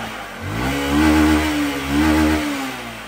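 A farm motorcycle engine revs up nearby with a steady tonal drone, swelling twice in smooth surges before settling back, with no talk over it.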